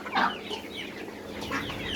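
Desi hens and roosters in a mixed backyard flock cluck close by, with a sharp call near the start and another later, over steady low chatter from the other birds.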